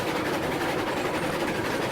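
Train hauling a load of wood cars in the railroad video game RailRoads Online, a continuous rumbling rolling noise with steady rhythmic clatter, close and constant throughout with no voices.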